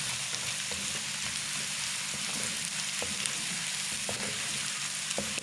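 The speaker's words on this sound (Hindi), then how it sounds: "पकाएंगे 2 सेकंड। ताकि लहसुन का जो जायका है वो थोड़ा कच्चा ना रहे।" Garlic fries in a pan with a steady, continuous sizzle and a few faint utensil taps, heard alone without any talking.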